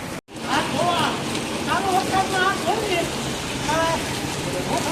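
Steady, dense hiss of rain falling close by, with several people talking and calling out over it throughout.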